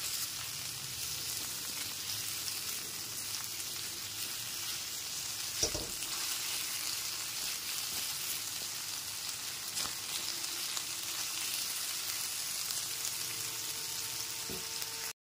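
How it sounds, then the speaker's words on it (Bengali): Onions with salt frying in a pan and being turned over, giving a continuous even sizzle with a faint occasional scrape, close but soft, with no voices. "লবণটা দিয়ে খুব ভালো মতো মিশিয়ে নেবার পর পেঁয়াজটা একটু নাড়াচাড়া করে নিচ্ছি"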